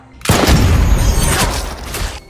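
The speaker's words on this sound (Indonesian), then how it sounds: "Tapi ada granat yang meledak di dekatnya" A grenade explodes nearby in a combat film, a sudden loud boom followed by a roaring, sustained blast wash that slowly fades over about two seconds.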